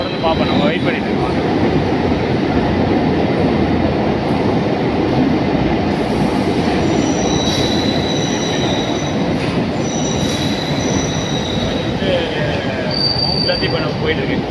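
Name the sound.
suburban train passing, St. Thomas Mount to Velachery line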